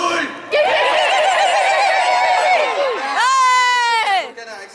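A crowd of audience members at a live event cry out together in loud, wavering, screechy voices, imitating a chicken's slaughter cry in two bursts.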